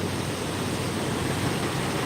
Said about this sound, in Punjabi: ਇਹਦੇ ਵਿੱਚ ਪਾਣੀ ਚੱਲਦਾ ਹੋਇਆ ਜਮਨਾ ਦਰਿਆ ਦਾ